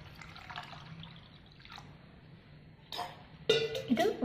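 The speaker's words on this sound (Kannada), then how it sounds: "ಈಗ ನಾವು ನೀರು ಹಾಕಿ 5-6 ತಾಸು ನೆನೆಯಿಡ್ಬಿಡೋಣ" Water poured onto washed rice in a bowl to soak it: a faint trickle at first, then louder splashing pours and drips toward the end.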